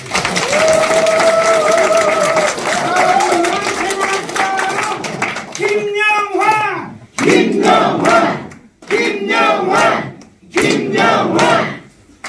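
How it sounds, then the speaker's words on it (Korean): Crowd at a political rally in Okcheon welcoming a returning presidential adviser, erupting in loud cheers and shouts followed by several bursts of applause, mixed with voices between the swells. "고향에 돌아온 저를 좀 따뜻하게 맞이하는 박수를 한번 쳐주시면 어떨까요?"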